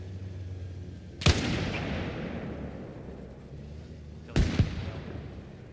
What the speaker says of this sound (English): Yep, there it is. Mortar fire.